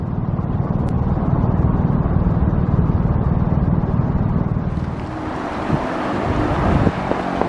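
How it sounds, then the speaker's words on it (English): Gusts of wind buffet the microphone at a Las Vegas demolition site, a low, rumbling roar that eases off partway through, then returns in rougher bursts. "It's just starting to get very windy out here."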